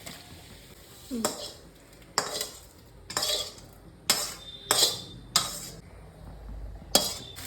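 Vegetables are stirred into fried spices in a wok, giving repeated sharp scraping and clanking bursts roughly every second over a faint sizzle, with no talk.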